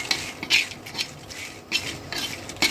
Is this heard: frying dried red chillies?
yes